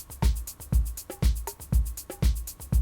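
A programmed drum beat in Ableton with the kick drum brought in: deep, punchy kicks land on a steady pulse under crisp hi-hats and a snare, looping evenly with no voices.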